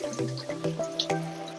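Rinse water is poured off rice from a pot, giving a short run of close, light drips and splashes with a faint watery trickle.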